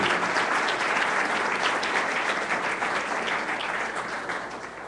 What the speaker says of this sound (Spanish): Déselo fuerte, un aplauso para Él.